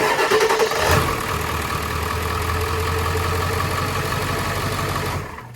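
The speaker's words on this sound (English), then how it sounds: "I'm going to let you listen to the cranking speed that it has after doing this repair" A Ford engine cranks steadily over after a battery cable repair, a loud, even churning drone with a brief louder burst near the start, running continuously before tapering off at the end.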